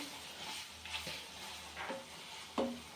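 Chicken liver and sliced onions frying in a pan, a soft continuous sizzle with a few scraping stirs and one sharper clatter near the end, close and with no talking.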